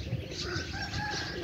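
Pigeons coo softly while a golden pigeon lands, with a few thin chirps over a steady outdoor background hum and no talking.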